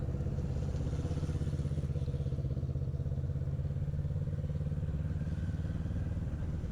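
A motorcycle circles a 40-foot ring with the rider's knee down, its engine a close, steady, throbbing mid-pitched drone that holds nearly constant as it rides.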